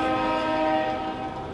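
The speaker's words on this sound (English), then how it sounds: "And that's a big train." A big train rolls past, a steady close rumble carrying sustained horn-like tonal pitches throughout, with no talking over it.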